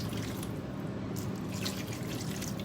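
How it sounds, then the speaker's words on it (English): A cup of water being poured into a roasting pan gives a soft continuous splashing trickle, fairly quiet and steady throughout. "Then I'm going to add a cup of water"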